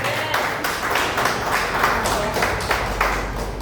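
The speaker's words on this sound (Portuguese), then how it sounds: "Unido louvor de palmas para o Senhor." A church congregation clapping hands together during a worship service, a broad wash of many hands with rhythmic pulses roughly every third of a second, steady and fairly loud.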